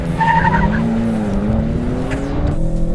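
A BMW M3 Competition and a 680-horsepower AMG C63 launch hard over a standing quarter mile, loud engines roaring steadily with rising pitch and tires squealing, continuous and close throughout.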